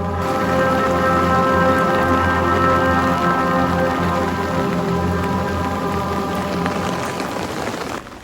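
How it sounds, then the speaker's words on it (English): Heavy rain pours down steadily near a river crossing on a mountain trek, a dense, loud hiss with no breaks that eases only slightly at the very end. "As we were crossing the river, it started pouring."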